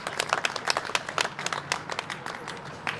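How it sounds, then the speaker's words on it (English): A small outdoor crowd at a Pride flag raising ceremony in Westfield claps for the flag, with distinct individual hand claps in an uneven, lively rhythm at moderate distance. "A round of applause for Westfield's Pride flag."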